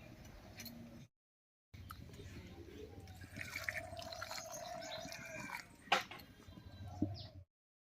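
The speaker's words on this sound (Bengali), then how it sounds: "এখান থেকে আর্ধেকটা জল এই শুটকি মাছের উপরে ঢেলে দেবো" Hot water poured from a pot over dried fish, a soft close splashing trickle with a brief pause, then dribbling and a couple of small knocks.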